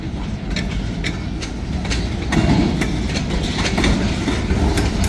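A freight train carrying scrap iron, center-beam cars and four tanker cars rolls steadily past on a super windy day, with rhythmic clickety-clack wheel beats over a constant rumble and rushing wind noise.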